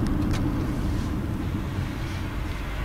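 A car driving along a strip-mall road, steady low engine and road rumble with wind noise, continuous and loud from inside the cabin, no one talking.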